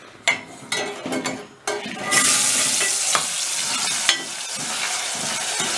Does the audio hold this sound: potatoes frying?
yes